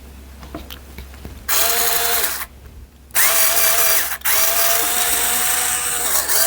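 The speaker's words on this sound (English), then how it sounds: "now I wouldn't ordinarily use like an electric screwdriver on this" An electric screwdriver drives screws into a Fender Stratocaster guitar, with loud motor whirring bursts alongside a ratcheting buzz. The bursts come in three runs separated by short pauses, close up with no talking.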